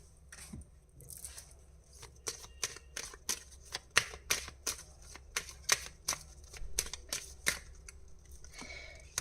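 Tarot cards are shuffled by hand, a rapid run of crisp riffling flicks and slaps repeating in an uneven rhythm for several seconds, close and clear with no talking.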